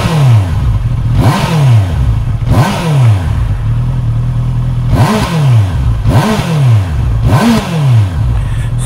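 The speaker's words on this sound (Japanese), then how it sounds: "それではマフラーサウンドを聞いてみたいと思います。" A Honda CBR650R motorcycle exhaust revs sharply five times, each blip rising and dropping back to a steady idle, loud and close with no talking.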